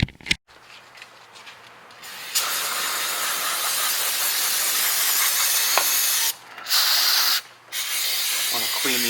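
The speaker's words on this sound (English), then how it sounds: "I am going to spray this down with some brake clean" Brake cleaner sprayed onto the rear brake parts of a 2015-20 Hyundai: a loud, close, continuous aerosol hiss lasting several seconds, cut by two brief pauses before the spraying resumes.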